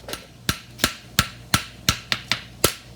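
A hammer strikes a horseshoe on an anvil in a steady series of about nine sharp metallic blows, close and ringing, spaced roughly a third of a second apart, with faint background hum between hits.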